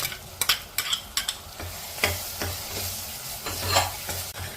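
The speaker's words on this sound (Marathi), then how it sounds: "टोमॅटो छान परतून झाला आहे।" Chopped tomatoes sautéing with ginger-garlic paste in a pan for pav bhaji, a close, lively sizzle punctuated by quick, repeated clicks and scrapes of a spoon stirring, busiest in the first second.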